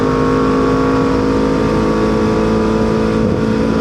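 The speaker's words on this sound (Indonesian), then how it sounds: "ini kayaknya agak berisik ya knalpotnya" A Kawasaki Z250 motorcycle with an aftermarket exhaust, following an ECU remap, idles and revs close by, a loud, continuous throbbing engine drone that fills the whole stretch.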